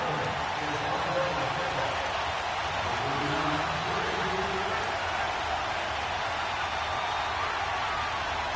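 Steady rain hisses down during an NFL football video game on PS4, a dense, even wash of falling water with no breaks, with faint voices underneath.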